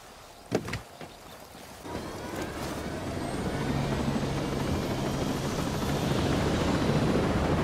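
A helicopter in the video game Ghost Recon Breakpoint starts with a couple of sharp knocks, then a rotor and engine roar builds and grows steadily louder, loud and close.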